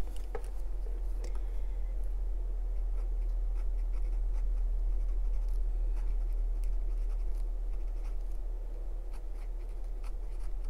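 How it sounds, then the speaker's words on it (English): Fine-tipped Sakura Micron F pen writing in a Hobonichi Techo journal, a soft, steady scratching of nib on paper with light rhythmic strokes, faint and close over a constant low background hum. "I'm taking the F nib of the, from the Sakura Micron, and maybe I'll write Italian."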